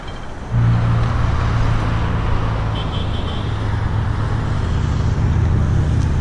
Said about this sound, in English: Studebaker pickup.